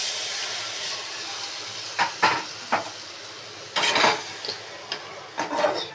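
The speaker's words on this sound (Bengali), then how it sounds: "মশলা কষানো হয়ে গেছে, তেল ছাড়া শুরু করেছে। এবার জলটা দিয়ে দিচ্ছি।" Water poured onto sizzling fried spice paste for a potato and pointed gourd curry, steady hiss broken by several loud bursts of spitting and crackling steam.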